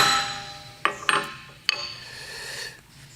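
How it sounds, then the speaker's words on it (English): A center punch struck with a hammer into a cast iron part, three sharp metallic taps, the second a quick double strike, close up with short ringing decay in a quiet workshop. "what I like to do is just take the center punch and just punch it just like you normally"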